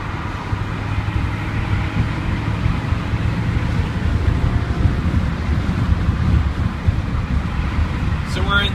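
A 2000s E60 BMW M5 cruising at about 67 mph in sixth gear, with steady low engine drone and road and wind roar filling the cabin throughout, unbroken and constant.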